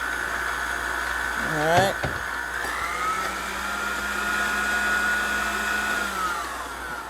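A bread machine whirs as it mixes meatball ingredients, a steady, loud motor drone with a rising pitch shift partway through, preceded by a short clatter and a brief spoken word.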